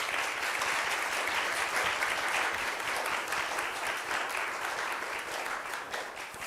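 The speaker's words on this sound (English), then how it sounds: "will you please give them another round of applause?" An audience at a housing summit claps steadily in a hall, a continuous, even burst of applause lasting several seconds with no talking over it.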